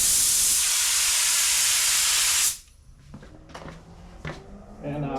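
Drizzle Pro LVLP spray gun laying clear coat, a loud steady airy hiss for about two and a half seconds that cuts off abruptly, followed by quiet handling noises and someone talking.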